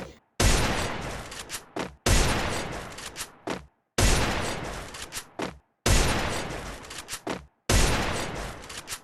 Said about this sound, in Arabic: خلينا نشوف الايم بنسر الصحراء